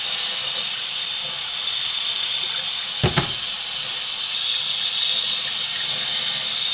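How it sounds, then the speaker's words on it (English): Hot water running from a kitchen tap, a steady broad hiss of flowing water throughout, with a brief clunk partway through, close by and without speech. "We're going to put some hot water on the tap."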